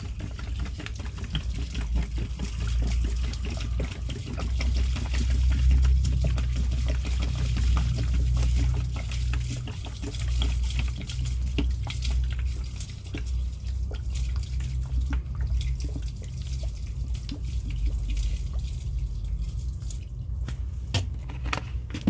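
Water jetted through an underground concrete drain line blocked by a root ball, a constant loud low rushing and gurgling roar with crackling drips and rattles over it, steady throughout with no voices.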